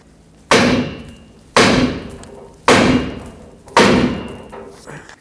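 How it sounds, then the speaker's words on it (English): Four heavy hammer blows on the metal steering knuckle of a 2004-2008 Ford F-150 to break the ball joint stud free, evenly spaced about a second apart, each ringing briefly before the next strike. "use a hammer, tap the knuckle right here to break the stud free"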